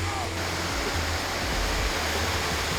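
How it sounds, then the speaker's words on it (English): Garfield Falls, a waterfall in New Hampshire, pours in a dense, steady roar with strong low rumble, heard up close and continuous without interruption. "First waypoint on the trip, Garfield Falls."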